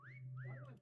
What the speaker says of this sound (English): I heard 3 whistles over here.